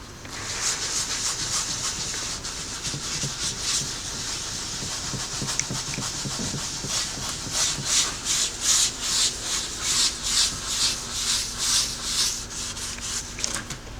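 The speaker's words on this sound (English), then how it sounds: "we've done the solvent using the sanding pad on one side of the seat here" A sanding pad rubs steadily over a car's leather seat with solvent, a continuous scratchy scrubbing that turns into rhythmic back-and-forth strokes in the second half, close and fairly loud with no talking.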